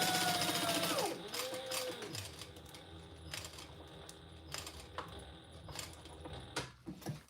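Sewing machine stitching a bag, its mechanism whirring and clicking steadily at close range, with a brief pitch sweep near the start and scattered ratcheting ticks as the needle drops and the fabric pivots.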